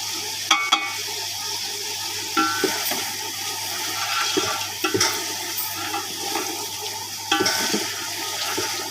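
Lemon juice poured into mutton kunna frying in a pan, giving a steady close sizzle with wet splashy pouring and scraping stir strokes throughout, a few louder bursts as liquid hits the hot fat.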